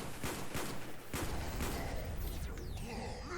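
Rapid gunfire at a zombie in Black Ops 1 Zombies, a quick burst of several sharp shots in the first half, followed by whooshing game effects and a busy background.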